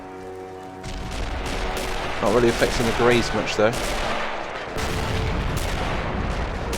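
Artillery shelling in the toy-soldier war game Army Men of War, with repeated booming blasts and gunfire rumbling throughout and someone talking over the barrage partway through.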